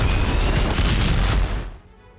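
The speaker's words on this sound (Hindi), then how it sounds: "इलेक्ट्रिक सब स्टेशन में जबरदस्त धमाका हुआ है।" Explosion at an electric substation in Krasnodar, Russia: a loud, rumbling roar sustained for about a second and a half before dropping off into a fading tail.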